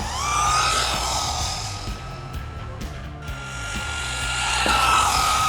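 A budget RC short course truck's small motor whines loudly and steadily on a 2S battery, pitch rising and falling with throttle, with brief dips and a few sharp clicks midway from a tight gear mesh.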